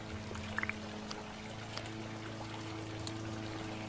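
Watering plants in a video game gives a soft, steady pouring trickle that runs continuously beneath a low background hum, with a few brief faint clicks near the start.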